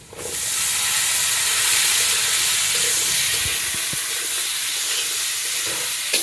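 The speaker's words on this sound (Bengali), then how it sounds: "এই তো আমার আলু ভাজি হয়ে গেছে আর বাকিগুলো সবজি দিয়ে দিই" Potatoes sizzle steadily in a hot frying pan with vegetables going in alongside, a constant close hiss of frying oil broken by a few soft stirring knocks, with no voices.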